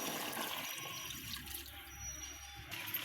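Broth is poured into a pan of gourd and fish curry as a soft, continuous liquid splash and trickle, faint and close, with no voices.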